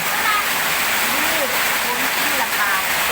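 Steady, dense hiss of rain and rushing water fills the scene, loud and constant, with a voice speaking faintly underneath.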